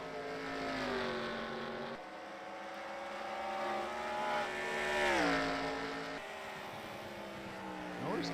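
Race car engines roar past on a straightaway, sustained high-revving notes that swell and bend in pitch as cars pass, a continuous layered drone with one car sounding stronger than the rest.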